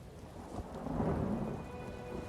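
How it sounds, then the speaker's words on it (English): Thunder rolls in a fantasy online role-playing game world, a low rumbling swell over steady rain that peaks and fades slowly, heard alone without voices. "Uh-oh, I hear thunder."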